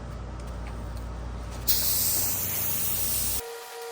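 Spray gun applying a coat of primer to a chrome bumper: a low background rumble, then a loud steady hiss of spraying for under two seconds that cuts off abruptly.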